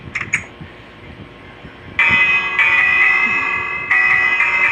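Chiming bell inside the Minecraft video game, a bright sustained tone struck twice in long ringing bursts after brief clicks, loud and alone.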